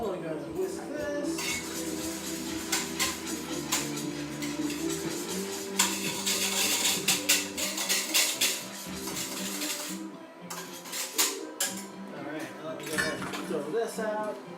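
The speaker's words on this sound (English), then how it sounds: "And we're going to whisk this." A whisk beats an ice cream mixture in a bowl, metal clinking and rattling against the sides in a rapid, continuous rhythm close up, with a voice talking over it.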